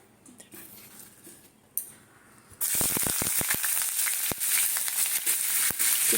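Chopped onions hit hot oil for a Bengali snake gourd and potato curry, starting after a quiet stretch with light clinks, then a sudden loud, steady sizzle and crackle with scattered pops.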